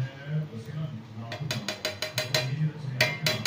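Fried basmati rice with egg stirred in a pan, a spoon scraping and clattering against the metal in a quick run of sharp, close strokes after a quieter start.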